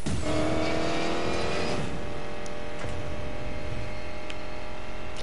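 A car races along in the PS4 racing game Need for Speed, its engine droning steadily and loudly throughout with a whining tone.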